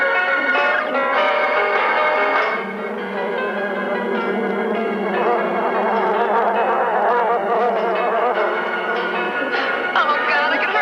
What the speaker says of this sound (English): We want to get those bees mad at you.